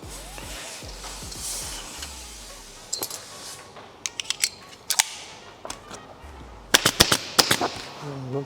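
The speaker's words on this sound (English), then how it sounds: "That's exactly what I'm stapling on." Staple gun driving staples into trim along a boat hull, a series of sharp single snaps, spaced at first and then in quick clusters, over a low background of handling noise.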